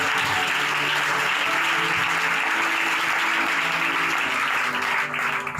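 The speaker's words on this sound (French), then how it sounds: "Acclamons la puissance de Jésus." Congregation at a worldwide Christian mission convention applauds steadily, a dense, continuous wash of clapping that holds at an even level throughout and thins slightly at the end.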